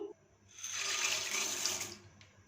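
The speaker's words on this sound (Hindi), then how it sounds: "हाफ गिलास मज़ीद इसमें दूध डालेंगे ताकि 500 ml कंप्लीट हो जाए" Half a glass of milk pours into a pot of macaroni to bring the liquid up to 500 ml, a steady, close splashing gush that lasts about a second and a half and then stops.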